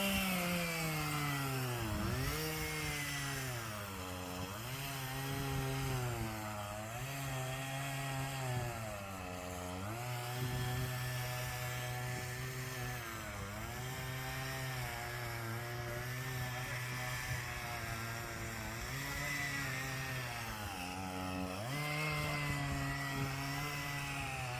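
A loud chainsaw cuts through logs at a felled tree, its engine droning steadily close by with pitch dipping and rising as the chain bites in, running alone for over twenty seconds.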